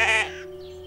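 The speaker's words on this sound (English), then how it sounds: "Dorothy, we've got a homing sheep." A cartoon sheep in a Postman Pat episode lets out a single short, close bleat, then fades into a quiet music-like drone.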